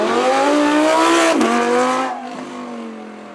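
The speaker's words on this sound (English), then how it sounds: "Next up then, we have our V10 Audi" An Audi V10 supercar at a supercar weekend gathering revs loudly up close, its engine note climbing in a rich harmonic howl, dipping sharply midway, then settling into a lower, quieter idle.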